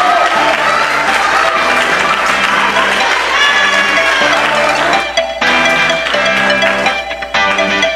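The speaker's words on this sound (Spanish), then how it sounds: "Un fuerte aplauso para estas bellas señoritas." A pageant crowd applauds and cheers loudly for semifinalists of a national beauty contest, with the dense clapping and shouts set against a pulsing musical backing with a steady low beat.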